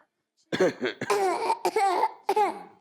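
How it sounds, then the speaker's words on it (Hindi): Children cough loudly and close by in several harsh, voiced bursts, some running together, with short pauses between them. "बच्चे बहुत जोर जोर से खांस रहे होते हैं, बहुत जोर जोर से।"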